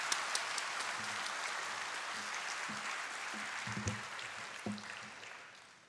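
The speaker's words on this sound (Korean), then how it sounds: "이 시간 나오실 때 여러분 큰 박수로 환영해 주시기 바랍니다." Congregation applause in a church Sunday service welcoming a guest speaker, a fairly faint, steady wash of clapping with a few low thumps and knocks toward the end.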